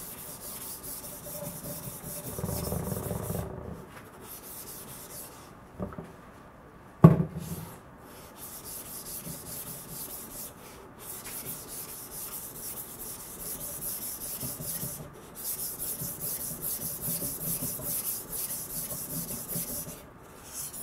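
A Yoshikane 180mm petty knife of SKD-11 (D2) steel at 64 HRC is sharpened freehand on an 800 grit King combination whetstone, giving repeated close, soft scraping strokes in a steady back-and-forth rhythm with a sharp knock midway.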